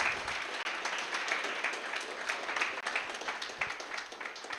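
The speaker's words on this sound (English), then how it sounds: "Yeah, let's give him a round of applause." A meetup audience at a Bitcoin Lightning Network talk gives a presenter a round of applause, a full, steady burst of many hands clapping lasting several seconds.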